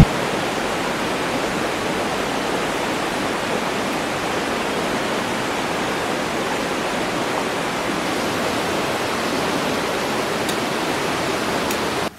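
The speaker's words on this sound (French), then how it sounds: "avec pour seul bruit de fond la rivière" A river rushes steadily, a continuous broad wash of flowing water with no pauses and no voices.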